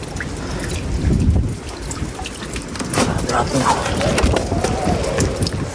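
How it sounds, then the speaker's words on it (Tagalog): Strong spring wind in Greenland buffets the microphone in gusty, rumbling bursts, with a steady outdoor rush and faint background noise throughout. "Lakas ng hangin."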